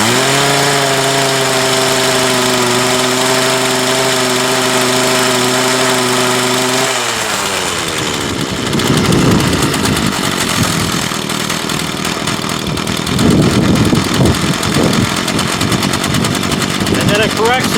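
A Craftsman 19-inch 25cc gas hedge trimmer engine with a new carburetor runs loudly and steadily at first, then drops in pitch and sputters roughly and unevenly as it struggles at full throttle, close by.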